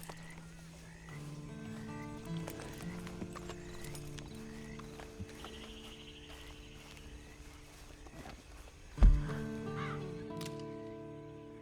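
Horse hooves clip-clop in a steady rhythm amid layered ambient music and bird calls, with a short snort and whinny near the end, in the video game Red Dead Online.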